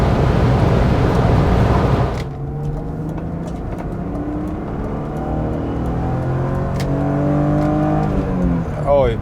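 A BMW E36 328i with an M52 engine revs while driving, first a loud pull, then a softer steady drone with shifting engine tones and some road noise.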